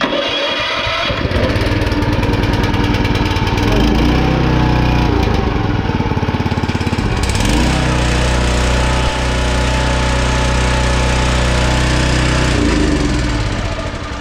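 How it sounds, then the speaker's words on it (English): A Forest Master 6HP petrol wood chipper with electric start cranks briefly and catches, then runs at a loud, steady close-up idle that dips and recovers once, with no talk. "you can see it starts relatively easy, and the electric start is a good start"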